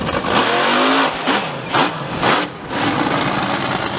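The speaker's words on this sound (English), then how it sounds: "You can hear that truck producing a lot of noise." A monster truck engine roars and revs repeatedly at a speedway monster truck show, dipping and surging in loud bursts before settling into a sustained growl.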